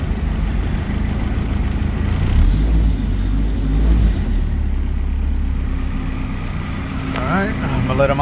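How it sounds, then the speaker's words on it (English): A 1992-95 Honda Civic engine idling after an oil pan gasket replacement and oil change, a steady low rumble close by with someone talking over it. "Alright, so Goliath's been idling for a while."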